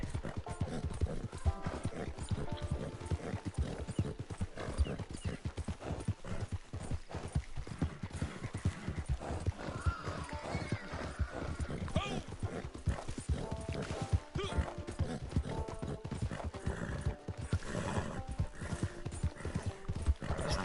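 Horse hooves clip-clop in a steady galloping rhythm throughout, with an occasional whinny, in the Red Dead Redemption 2 video game; the sound is continuous and fairly loud, with faint game music or voices underneath.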